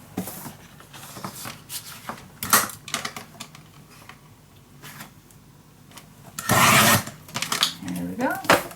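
Paper for scrapbook mini album pages is cut with scratchy, rasping strokes and taps close by, followed by one longer, louder swipe of the cut near the end.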